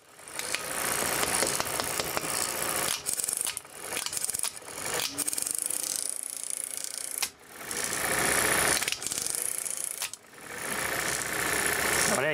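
Motor of a Super 8 film projector, just repaired, running with a loud whirring mechanical rattle that cuts out and restarts several times as a faulty switch interrupts it.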